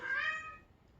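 A kitten under a car gives a single short, high meow lasting about half a second, close and clear, fading into quiet background.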